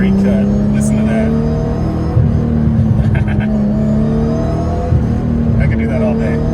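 Straight-cut gears in a Nissan R32 GTR whine under acceleration, a steady loud engine drone with rising pitch shifts and a couple of surges, heard close up with speech over it.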